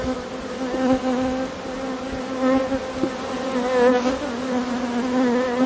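A dense swarm of honeybees buzzes loudly and steadily close by during an artificial swarm split from a hive, a continuous droning hum with wavering pitch.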